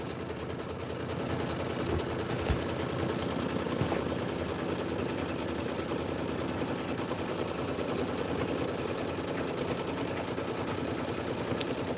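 Embroidery machine stitching background quilting on a pillow, a steady dense rapid needle hum running unbroken throughout, close and fairly loud with no talking.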